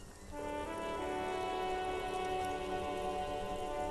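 Steady rain falls in the video game Disco Elysium, a dense, even hiss of drops over a city street that keeps up without a break at a soft, constant level.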